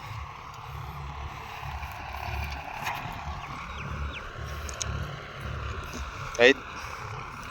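A John Deere tractor plowing a damp farm field, a low continuous engine drone at moderate distance with a brief sharp sound near the end, while someone talks over it.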